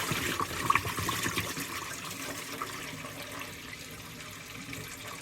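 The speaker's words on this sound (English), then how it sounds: "I'm going to use bottled water once I'm done rinsing the rice." Water runs from a kitchen sink tap while rice is rinsed, a faint, steady splashing wash that holds throughout with no voices.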